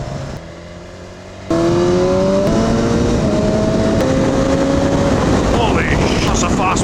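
A 2018 BMW S1000XR motorcycle's inline-four engine howls while riding, rising sharply in pitch through several gear changes, loud and close with wind noise buffeting the microphone.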